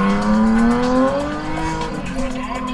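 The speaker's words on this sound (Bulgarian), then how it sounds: "дай газ! Дръпни ръчна!" A drift car at a track event revs hard with its handbrake pulled, a loud close engine note rising in pitch and then settling, with tire squeal and a shouting voice over it.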